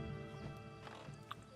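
A horse's hooves clip-clop at a walk in a video game, soft and fairly faint over a low ambient hum, with a brief sharper knock near the end.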